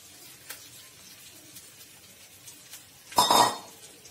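Cooked leftover rice tipped into a pan of spiced tempering for a chilli peanut-powder pulao, giving one brief clattering, scraping burst of stirring near the end after a few faint clinks.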